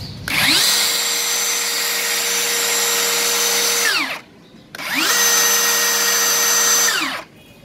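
A DeWalt 60V cordless circular saw spins up twice with no cutting, each run a loud, steady high whine lasting about three seconds before the braked blade winds down quickly to quiet.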